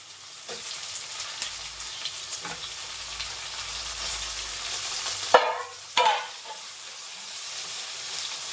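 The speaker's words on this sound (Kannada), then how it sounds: "ಸ್ವಲ್ಪ ಫ್ರೈ ಆಗ್ಬೇಕಿದು ಫ್ರೆಂಡ್ಸ್ ಸ್ವಲ್ಪ ಫ್ರೈ ಆಗಿದೆ ಬದನೆಕಾಯಿ" Brinjal pieces frying in a pan, a continuous close sizzle broken by a couple of sharp scraping stirs near the end, with no voices.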